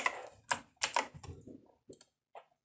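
Keys tapped on a computer keyboard while working in Adobe InDesign: a few quick clustered clicks up front, then sparse, softer isolated taps trailing off, close and dry with no voices.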